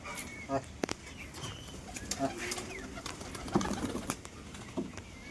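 Roller pigeons coo softly in low, rounded calls at a loft amid a busy outdoor background, with occasional sharp knocks and a voice talking nearby.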